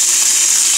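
Water poured into hot halwa in a pan sizzles loudly at close range, a steady hissing roar with no pause and no talking.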